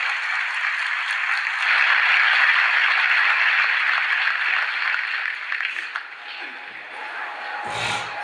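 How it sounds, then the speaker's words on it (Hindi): Loud, sustained applause from an audience welcoming a group of women who walked 1400 km from Hyderabad, steady dense clapping for several seconds that thins out near the end. "जी बहुत जोरदार तालियां इनके लिए।"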